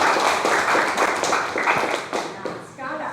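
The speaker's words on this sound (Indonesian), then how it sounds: "Tepuk tangan buat kelompok 1" Students in a classroom clap for a group of classmates, a brief, fairly loud burst of mixed hand claps that thins out near the end.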